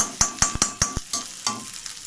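Boiled noodles and chicken are tossed in a hot pan, a quick series of sharp metallic scrapes and clacks from stirring over a faint sizzle, the strikes coming in an uneven rhythm close by, with no talking.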